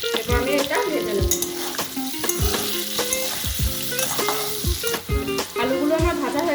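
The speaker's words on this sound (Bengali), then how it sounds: "এরপর ওই তেলেতেই আমি একইভাবে আলুগুলো ভেজে নেব" Potatoes seasoned with turmeric and salt fry in oil, a continuous sizzle broken by frequent metallic clanks and scrapes of a spatula against the pan, close and moderately loud.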